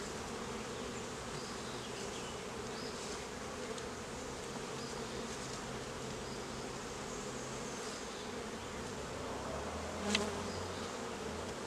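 Honey bees buzzing thickly as they are shaken off super frames during a hive inspection, a dense, continuous hum that fills the whole stretch, close and steady with a brief louder swell near the end and no speech.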